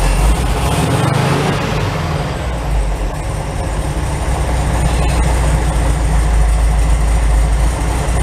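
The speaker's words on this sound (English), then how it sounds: "Let me see if I can get down and rev it up." The engine of a long-parked 1961 Volkswagen Beetle runs with a loud, steady low rumble at close range, showing a brief swell near the start but little clear revving after that.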